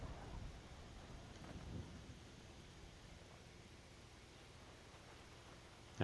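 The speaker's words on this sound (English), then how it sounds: "Now we've got raining again." Rain and thunder in the GTA V video game, a steady hiss of falling rain with low rumbling that swells near the start, continuous and fairly quiet throughout, ending in a sudden loud burst.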